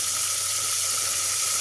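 Steady, loud hissing sizzle of milkfish (bangus) frying in hot oil in a covered pan, continuous and close with no talking.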